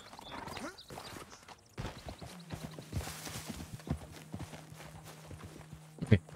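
Horse hooves clip-clop in a steady walking rhythm in Red Dead Redemption 2, moderately close and fairly soft, with a low sustained tone underneath and a sharp louder knock near the end.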